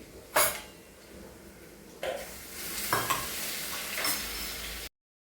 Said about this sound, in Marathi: पहिलं तर तेल टाकून जिरे मोहरीची छान अशी फोडणी देते